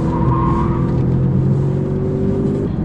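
A diesel Audi A6 TDI Biturbo Competition with 326 hp accelerates through a corner. Its engine drones close and loud, with the pitch climbing steadily as it gathers speed.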